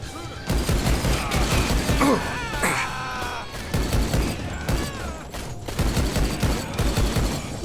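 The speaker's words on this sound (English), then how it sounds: "Looks like I can't aim very well with dual-wielding pistols" Dual-wielded pistols in the 2013 shooter Rise of the Triad fire in rapid, repeated bursts, loud and close, with short pauses between volleys and some mechanical clatter mixed in.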